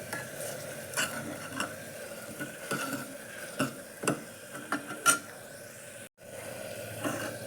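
Rock salt stirred into tomatoes in a pan, a spoon scraping and clinking against the metal in irregular strokes over a soft sizzle, fairly close and moderately quiet with no talking.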